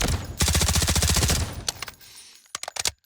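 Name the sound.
K416 rifle gunfire in video game Delta Force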